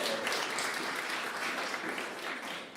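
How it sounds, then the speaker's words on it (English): An audience at a socialist conference opening panel claps in a steady wash of applause that holds for about three seconds and fades slightly at the end. "you can clap if you want to."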